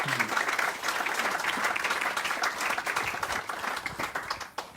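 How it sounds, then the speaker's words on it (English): An audience at a veterans' vehicle presentation ceremony in St. Louis gives sustained applause. Dense clapping continues steadily throughout and fades slightly toward the end. "a round of applause for our Level"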